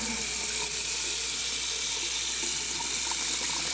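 Hot water runs from a sink tap, its flow discoloured and blood-like, making a steady, close hiss that continues alone for a few seconds.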